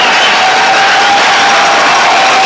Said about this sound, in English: the crowd loves it as the Whalers have played a very fine hockey game tonight